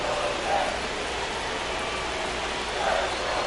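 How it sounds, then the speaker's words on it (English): Steady rain falls across a baseball stadium in MLB The Show 25 during a Yankees versus A's game, a constant broadband hiss at moderate level with slight swells, and faint commentary may sit underneath. "This rain is not letting up."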